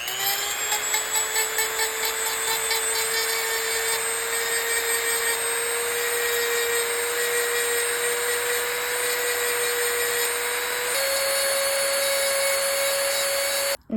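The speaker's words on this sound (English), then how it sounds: "we're gonna be sanding it down with the Dremel, putting it on high speed, and just making sure this gets smoothed out." A Dremel rotary tool runs at high speed, sanding a broken glasses frame with a steady high-pitched whine that shifts slightly in pitch, close and continuous, then stops abruptly.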